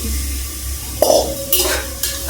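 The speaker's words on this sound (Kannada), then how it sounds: "ಇದೊಂದು ಸ್ವಲ್ಪ ಎಣ್ಣೆ ಒಳಗೆ ಚೆನ್ನಾಗಿ ಫ್ರೈ ಆಗಲಿ" Washed small soybeans fry in oil with tomato and salt in a pan, giving a soft sizzle under a steady low hum, with a few close spoon scrapes and clinks near the end.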